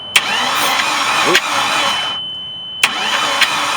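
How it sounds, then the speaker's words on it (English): A Mercruiser marine engine with rusty water inside and its spark plugs removed cranks over with a steady churning whir, broken by a few sharp clicks and a brief pause, as a voice speaks briefly. "we're going to go ahead and try to turn it over with the spark plugs out"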